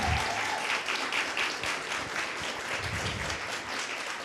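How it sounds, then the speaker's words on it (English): An audience at a mayoral candidate forum in the Big Easy restaurant gives a round of applause for the owners, a sustained fairly quiet clatter of many hands with no speech over it. "Can we give a big round of applause to the owners of the Big Easy for allowing us to come in?"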